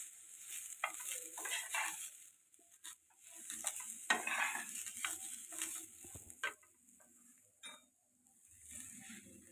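Green beans stirred in a pan with roasted sesame seeds, soft intermittent stirring scrapes and light sizzle, fairly quiet and close, with a few faint clinks of a utensil.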